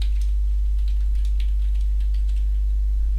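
Computer keyboard typing while coding a simple Java calculator, a run of quick light clicks at a fairly steady pace over a constant low electrical hum, no speech.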